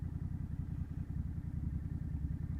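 A Honda Rebel 1100 motorcycle rumbles steadily while being ridden, a low, continuous engine drone with a throbbing pulse and wind noise, close and unbroken throughout.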